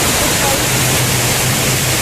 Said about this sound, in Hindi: तो ये यहाँ फॉल गिरता है वो पानी जमा है